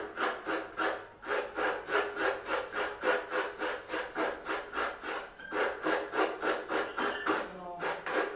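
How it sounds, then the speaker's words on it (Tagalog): Coconut meat being grated by hand: a fast, steady rhythmic scraping, about three strokes per second, close and continuous, with a brief pause partway through and no talking. "kawawang magkakayod ng nyog"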